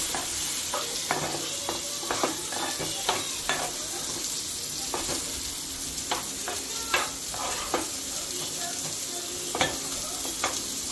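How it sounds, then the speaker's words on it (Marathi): Cooked squid stirred into a pan of Koli masala and Kashmiri red chili powder for a Malvani curry, a spoon scraping and clacking in uneven strokes over a steady low sizzle, close and with no talking. "आता ह्यामध्ये आपण हे शिजवलेले स्क्विड टाकू"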